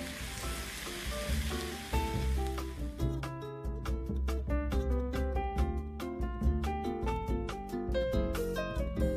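Onions browning in a pot for onion soup give a steady, soft sizzle that runs under a prominent piano-like melody, clearest during the opening seconds.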